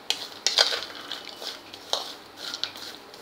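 A spoon scrapes and clinks in a pan as fried peanuts are mixed with black masala and salt, giving scattered close metallic taps and rustles with no talking.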